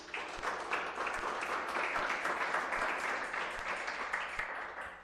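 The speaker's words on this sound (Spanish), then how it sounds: "Den un aplauso al Señor." Church congregation applauding during a worship service, a sustained, fairly soft round of clapping heard from within the room for several seconds.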